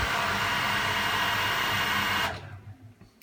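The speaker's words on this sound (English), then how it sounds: "So I'll just turn the pump off again." A swimming pool pump runs with a loud, steady broadband whir, then is switched off and cuts out abruptly, leaving a brief fading rumble and near silence.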